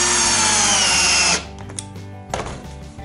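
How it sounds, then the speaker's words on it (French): Power drill driving a screw into wood, a loud high whirring motor whine for over a second that abruptly stops, followed by a few clunks and rattles of the tool being handled. "quand tu mets une vis dans du bois"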